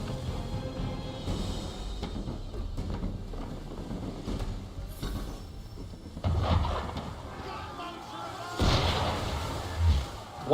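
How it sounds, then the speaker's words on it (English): Heavy cannon fire directed at a boat in Assassin's Creed 3, with two loud booming blasts a couple of seconds apart standing out over a busy bed of ambient game sound and faint voices. "Why is he shooting at us?"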